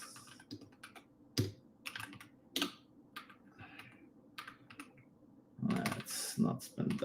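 Bursts of close computer keyboard typing, sharp individual keystrokes with pauses between them and a denser flurry of clicks toward the end.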